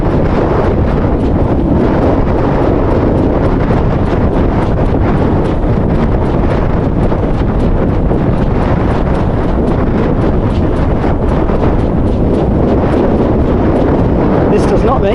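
Strong wind buffets the microphone on an open fell run, a loud continuous roaring rumble with no letup.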